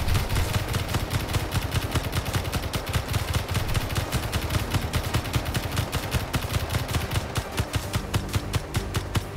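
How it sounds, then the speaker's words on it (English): Rapid sustained gunfire from a drone hovering overhead in the video game Space Engineers, a dense even rattle of shots that carries on loud for the whole stretch, with no voices. "But it's hovering above me, trying to shoot me."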